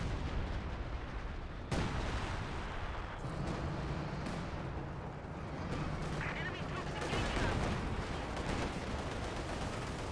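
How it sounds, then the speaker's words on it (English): A rumbling artillery barrage in Company of Heroes 2 sends dense, continuous booms and blasts rolling through a battle, with a sharp crack near the start and an announcer talking over the gunfire. "But brings the major artillery and does get the intended result of forcing him back."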